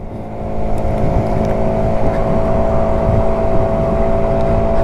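A cheap dealership motorbike at full throttle, climbing towards 30 mph, with a loud steady engine drone and hum, rising slightly at the start and then holding, alongside wind noise.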